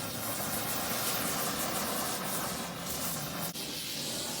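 A torch roars with a loud, steady hiss, heating a bent steering shaft on a Kawasaki Vulcan 750 three-wheeler conversion, continuous and close with no talking.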